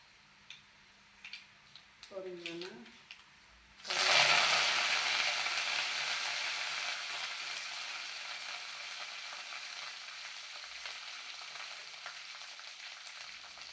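Dried red chillies and curry leaves hit hot oil with a sudden loud burst of frying, then settle into a steady dense sizzle that continues alone, with a few light taps and stirring sounds beforehand.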